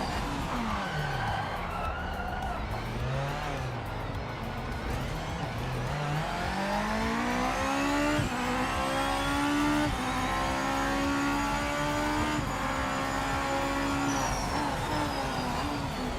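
Race car in the Project Motor Racing game braking hard and skidding through a chicane, with engine tones sweeping down and back up, sustained loud and steady throughout with no talking.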